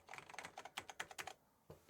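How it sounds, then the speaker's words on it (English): Someone types on an older computer keyboard that came with the original package, producing a quick, irregular run of crisp, close clicks, then a brief pause and one more keystroke. "And a really nice keyboard. I could happily type on this all day."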